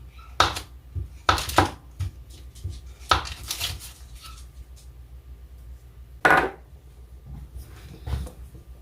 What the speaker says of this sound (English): And you just whisk it in until your butter is melted.